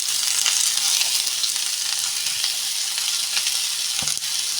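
Chopped onions and ginger-garlic paste fry in a pan for vegetable biryani, giving a steady, loud, close sizzle throughout with faint stirring scrapes and no talking.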